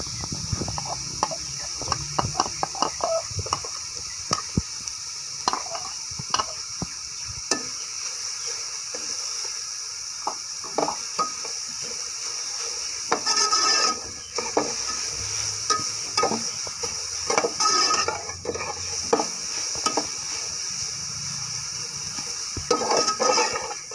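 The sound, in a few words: finely chopped capsicum frying and stirred in pan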